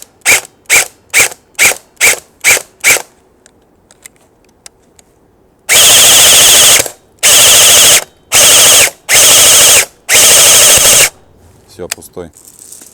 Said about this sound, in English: We have here lots of trash. It's rusty cans or any other pieces of trash. So I will fire.